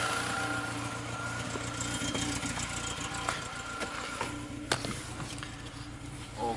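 A car engine idles after running about five minutes, with a low, steady hum and faint vibration, accompanied by a few small clicks and knocks close by.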